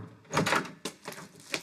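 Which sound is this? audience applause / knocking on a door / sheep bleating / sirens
knocking on a door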